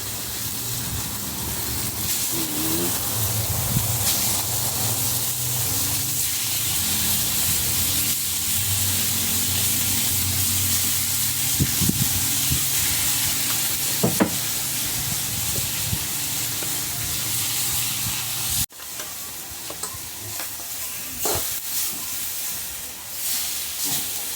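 Pork pieces sizzle in a hot pan, giving a steady hiss that runs without a break through the whole stretch, with a brief dip partway before it picks up again.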